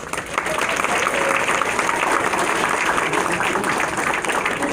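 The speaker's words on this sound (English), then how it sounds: "let's give Mrs. Trunk a good round of applause" An audience at a school concert applauds steadily, a dense wash of clapping that holds at a constant level throughout, with a faint murmur of the crowd underneath.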